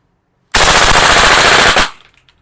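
A VFC HK416A5 airsoft rifle fires on full auto in a single loud, continuous burst of just over a second, ending abruptly with a brief tail of rattle.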